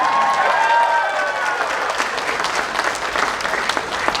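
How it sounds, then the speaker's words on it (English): A convention panel audience claps and cheers loudly, a thick wash of applause that opens beneath a briefly held voice and then carries on alone, slowly thinning. "That should have got more applause."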